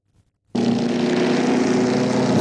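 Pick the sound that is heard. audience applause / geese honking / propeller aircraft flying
propeller aircraft flying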